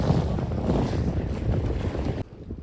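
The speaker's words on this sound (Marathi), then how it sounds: "कसली होडी उडते बघा, त्याच्यावरून समजत असेल लाटा कसल्या मोठ्या येतात" Rough sea tossing a small traditional fishing boat during stormy, rainy weather: a loud, continuous roar of wind and churning waves that cuts off abruptly near the end.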